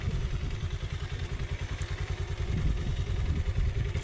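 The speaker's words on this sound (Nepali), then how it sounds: "बाइक पार्किङ हुँदैछ होइन" A motorcycle engine putters at idle with a steady throbbing pulse, close and fairly loud, while the bike is parked amid the bustle of a crowded fair.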